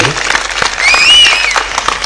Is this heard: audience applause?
yes